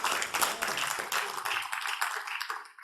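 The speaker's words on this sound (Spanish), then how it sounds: "Denle un aplauso fuerte al Señor por eso." Church congregation applauding strongly in praise during a sermon, a dense, steady wash of many hands clapping close by that carries through the whole moment and thins slightly near the end.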